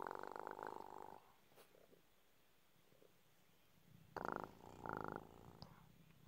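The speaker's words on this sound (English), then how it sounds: "You purring?" A cat purring softly and close, in low rhythmic bursts with a long quiet gap before two more short rounds of purring toward the end.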